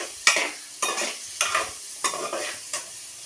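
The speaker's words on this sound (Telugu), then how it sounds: "ఉల్లిపాయలు పచ్చిమిరపకాయలని కూడా బాగా దోరగా అంటే రెడ్డిష్గా వచ్చేటట్టుగా ఫ్రై అయితే చేసుకోవాలి" Onions and green chillies frying in oil, with about six rhythmic stirring strokes scraping through the pan, each a sharp burst of sizzle that fades before the next, close and clear with no talk.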